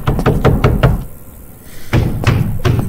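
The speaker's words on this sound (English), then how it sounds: "Who's knocking on my door?" Knocking on a door in the game Tattletail: quick clusters of sharp raps, a short pause, then another series of knocks, close and loud.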